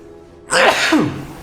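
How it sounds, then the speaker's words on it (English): A single loud, close sneeze bursts out after a quiet moment, breathy and sharp, then trails off. "had to sneeze"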